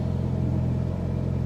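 A cold Audi TT MK1 engine idling steadily, a low continuous rumble with a slightly uneven pulse, close and alone with no talking.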